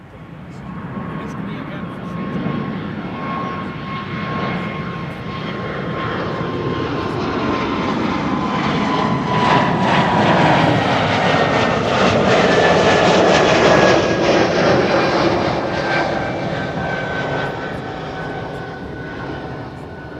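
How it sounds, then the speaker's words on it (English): An Air Baltic Airbus A220-300, the Bombardier C-Series 300, departs Amsterdam Schiphol runway 24, its jet roar swelling steadily and peaking mid-pass before easing slightly, with a high engine whine over broad rumble and a voice talking over it. "we have an A220 coming this way. Bombardier C-Series 300"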